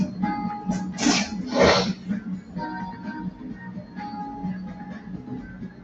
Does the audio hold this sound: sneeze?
yes